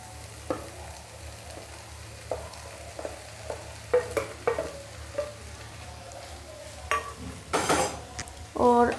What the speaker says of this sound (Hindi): अब डाल देंगे यहाँ पे आलू।